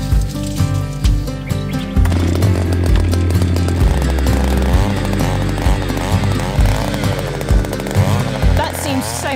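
Petrol auger machine drilling fence post holes into hard, stony ground on a Portugal homestead, its engine droning loud and steady throughout with rough grinding changes as the bit bites.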